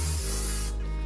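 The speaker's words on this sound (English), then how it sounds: "Let me just spray it on the rest of the hair." Hair spray from an aerosol can hisses onto long hair in one short, close, continuous burst that cuts off abruptly.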